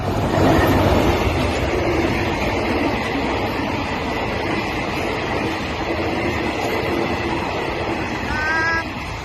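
Ordinary train 262 rolls past a level crossing south of Ratchaburi, Thailand, as a loud, sustained rail rumble with clattering wheels that holds steady, ending with a brief squealing tone.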